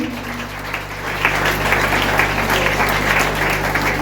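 A crowd breaks into sustained applause at a 19th anniversary celebration that swells after a moment and continues steadily, filling a large room.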